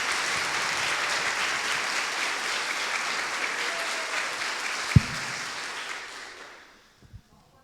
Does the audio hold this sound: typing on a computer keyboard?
no